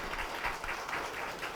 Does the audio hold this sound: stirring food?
no